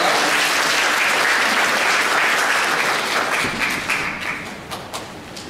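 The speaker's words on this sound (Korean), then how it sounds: "우리 박수로 우리 축하합시다" A church congregation applauds at a Sunday service, a dense and steady burst of clapping that thins out and tapers off over the last seconds.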